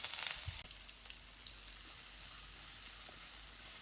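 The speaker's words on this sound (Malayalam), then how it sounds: "അപ്പോൾ നമ്മൾ ഈ ഉള്ളി ഫ്രൈ ചെയ്യാൻ എന്തായാലും കുറച്ച് സമയം എടുക്കും" Sliced onions frying in oil for a Pakistani-style chicken curry, a soft, even sizzle crackling quietly and continuously, with a brief louder stir at the start.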